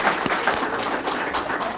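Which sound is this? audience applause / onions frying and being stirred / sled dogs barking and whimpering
audience applause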